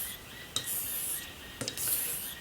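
A kitchen knife edge refined on a sharpening stone, heard as a soft, continuous hissing rasp with two brief, sharper scrapes where the stroke restarts, close and fairly quiet with no talking.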